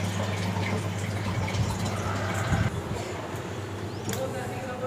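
Water pours steadily into a washing machine during cleaning, a constant rushing fill heard nearby without pause.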